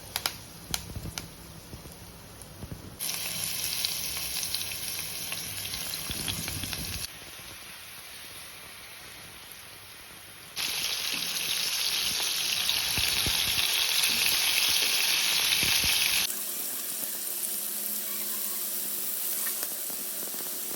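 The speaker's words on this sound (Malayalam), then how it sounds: "ഇനി ഓരോ പ്രോൺസും അതിനകത്തോട്ട് ഇട്ടിട്ട് നന്നായിട്ടൊന്ന് ഫ്രൈ ചെയ്തെടുക്കാം." Prawns fry in coconut oil in a pan with a loud, steady sizzle and hiss that shifts in intensity as the pan is covered and uncovered, with no voices.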